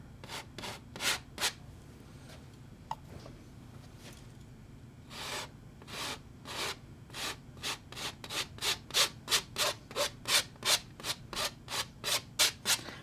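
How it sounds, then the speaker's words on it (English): A brush scrubs paint onto a space scene canvas in close, dry rubbing strokes, starting with a few slow passes, then a pause, then a long run of quick, steady rhythmic scrubs. "This one I'm gonna just kind of scrub it in where I want it."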